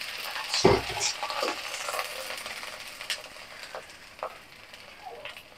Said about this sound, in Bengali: পেঁয়াজ ভাজা হয়ে গেছে, আপনি সামান্য পরিমাণে পানি দিয়ে দিব যাতে মশলা পুড়ে না যায়।